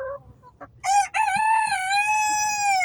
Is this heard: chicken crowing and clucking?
yes